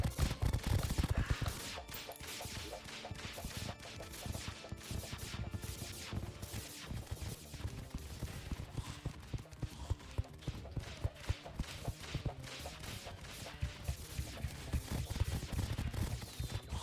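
Rapid, steady bursts of dart pistol fire in the video game Terraria during a dungeon multiplayer session, loud, dense and continuous throughout, with game effects mixed underneath and no talking.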